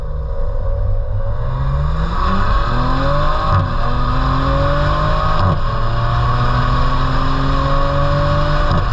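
A 2020 Maserati Levante SQ4 SUV accelerates hard along a straightaway, its engine loud and close as the revs climb repeatedly through the gears, with brief dips and pops at each upshift and no talking.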